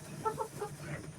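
Faint, soft clucking from chickens, a few short calls in quick succession with low background noise.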